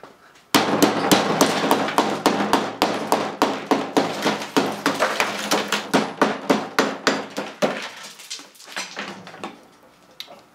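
An electric hammer pounds through ice in rapid, evenly spaced sharp blows, loud and close, a long burst of repeated impacts that slows and fades into a few scattered hits at the end.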